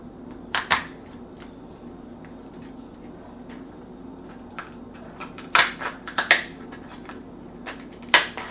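Kitchen shears snap through a lobster tail shell in sharp, crisp cracks, a couple near the start and a dense cluster of crunching cuts later, over quiet room noise.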